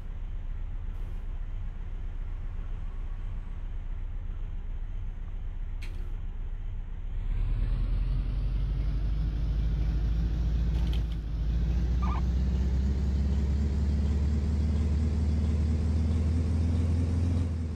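Fire truck engine in the Flashing Lights police, fire and EMS game, a steady low rumble that swells louder partway through as the truck pulls away, continuous and close, with no talk over it.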